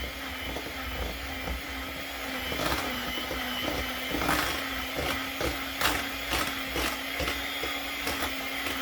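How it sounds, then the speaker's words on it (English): An electric mixer whirs steadily through pineapple cake batter, a continuous close motor hum with faint irregular rattles and knocks as the beaters hit the bowl, no talking. "So you go ahead and mix it up."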